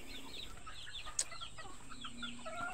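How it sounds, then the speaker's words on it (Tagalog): Incubator-hatched chicks in a backyard, soft high cheeping and peeping calls scattered throughout at low level, with faint clucking from nearby fowl. "ito yung update natin sa mga sisiw natin na napisa sa incubator"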